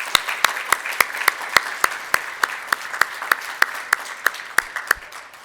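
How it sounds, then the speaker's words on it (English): Applause at an awards ceremony, a moderate crowd clapping with one or two loud nearby hands beating out a steady, regular rhythm over the softer general patter. "Please join me in a round of applause."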